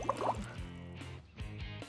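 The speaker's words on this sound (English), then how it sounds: "I could make a fizzy drink by just blowing bubbles in this water." Bubbles are blown through a straw into a glass of water, producing a quiet, close, burbling gurgle with soft watery pops that continue in short bursts.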